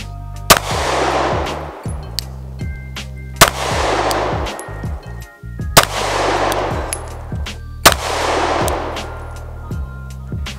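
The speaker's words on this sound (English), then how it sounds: "So I'm gonna shoot it here" A Glock 19 MOS pistol fires four loud single shots outdoors, spaced a couple of seconds apart, each a sharp crack with a ringing tail, with faint clicks and handling noise between.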